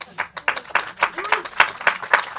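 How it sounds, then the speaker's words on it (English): Audience at a documentary festival Q&A applauding the film's directors, a sparse, rhythmic patter of individual claps from a small crowd, fairly close, with a voice briefly heard in the middle. "Big round of applause for Stephen and Brett Story both directing this film."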